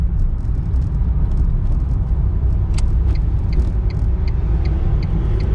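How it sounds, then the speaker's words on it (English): Original Tesla Roadster driving on the road, a steady close rumble of tires and cabin noise with a faint rising electric motor whine threaded through, no one talking. "That electric motor whine is so cool."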